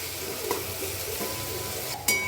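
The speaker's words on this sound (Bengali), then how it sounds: "এরপর মশলাটাকে ভালোভাবে কষাবো ততক্ষণ না মশলা থেকে তেলটা বার হচ্ছে।" Cumin, coriander and turmeric powders frying in oil in a pan, a steady soft sizzle with a faint clink of the spoon and a sharper scrape near the end.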